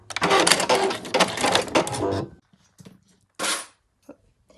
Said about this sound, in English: Back stitch to finish.